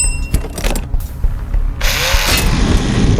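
A mechanical saw in the horror game Bonesaw whirs and grinds loudly for a few seconds, with a rough motorized buzz and a sudden brighter burst partway through.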